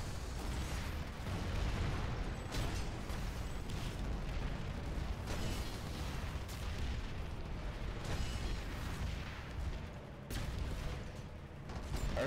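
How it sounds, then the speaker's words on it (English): A dense, continuous rumble of explosions and bursts in the game Planetside 2, loud and sustained, with brief dips and booming surges throughout. "I heard a big explosion."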